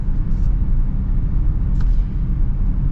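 A 2025 Honda Pilot Elite SUV cruises smoothly, giving a low, steady cabin rumble of road and engine noise with a couple of faint brief ticks, and no one speaking.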